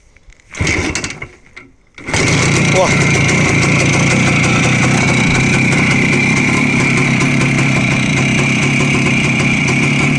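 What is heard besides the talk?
Voskhod 2M motorcycle engine starting and running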